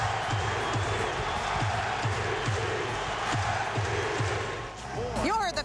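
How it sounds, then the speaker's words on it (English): A baseball stadium crowd roars loudly and continuously after a 2004 MLB grand slam home run hit with the bases loaded, a dense, sustained wall of cheering that swells again near the end. "You heard the crowd."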